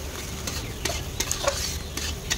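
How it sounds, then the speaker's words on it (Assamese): Spices with salt and turmeric frying in hot oil for a pork dish, a steady sizzle close by with repeated scraping stirs of a utensil against the pan, with no talk. "খুব ধুনীয়াকৈ এতিয়া ভাজি ল'ম।"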